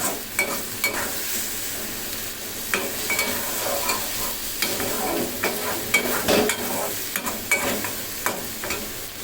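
Chicken frying in a pan with light soy sauce, a continuous sizzle punctuated by repeated spoon-and-pan scrapes and clinks as it is stirred, close and clear with no talking.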